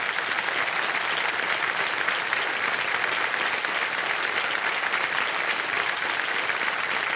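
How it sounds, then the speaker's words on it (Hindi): A game show studio audience applauds a winning contestant, dense continuous clapping at an even level throughout, with no voices on top. "तालियां बज जाए इनके लिए"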